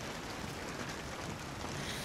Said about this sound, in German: jetzt regnet's wieder